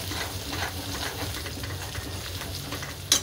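Oil sizzles steadily in a pan as curry leaves are dropped in while cooking a drumstick vegetable curry, a continuous crackling fry with a brief sharper spatter near the end.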